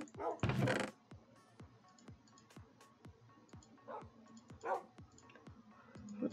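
A pet dog (a wolf) in Minecraft barks in one loud, close burst near the start, then gives a few softer yips later over a steady run of quiet, evenly spaced clicking steps.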